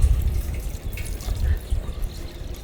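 Water runs from a tap just after the water supply is hooked up, a steady close splashing rush that fills the whole stretch with no talk over it.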